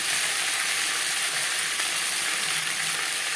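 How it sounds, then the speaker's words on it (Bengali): Potatoes fried in oil with tempering spices, a loud, steady, close sizzle and hiss throughout as they are stirred in the pan, with no one talking. "ফোড়নের সাথে আলু বেশ ভালো করে মিক্স করে দেবো।"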